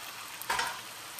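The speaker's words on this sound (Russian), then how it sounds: "Теперь жарим с картошкой еще минут 10." Onion and potatoes sizzle in a frying pan, a soft, steady hiss with a brief louder burst from a stir midway through, no voices.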